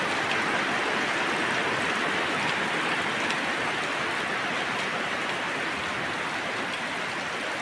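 Autumn rain falling steadily outdoors, a dense, even hiss of drops that holds constant and fairly loud throughout, with no voices.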